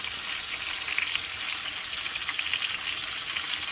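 Chuck roast searing in a hot pan, a dense, even sizzle with fine spattering crackles, held close and steady throughout.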